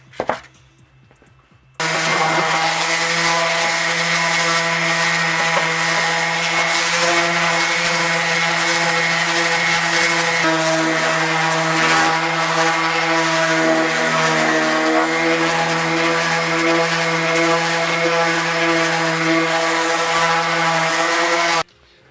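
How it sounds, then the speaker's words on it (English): Power sander working a wooden tool handle, a loud steady motorized whir with a constant droning pitch running for about twenty seconds after a brief start, with slight shifts in tone as pressure changes. "But if you do have the power sander, just power sand this off."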